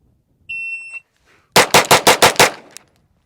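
A Glock pistol fitted with a Fusion Firearms XP Pro slide, fired after a shot-timer beep: six sharp, loud shots in quick even succession, then a faint metallic ping, with no talk.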